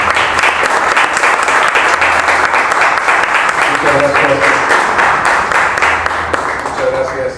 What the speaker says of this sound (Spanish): Don Pedro Valtierra, le recibimos con un fuerte aplauso y le cedemos el uso del micrófono.